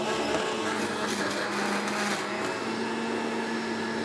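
A centrifugal juicer runs steadily with a loud, continuous whirring motor hum and grinding buzz, close and unbroken.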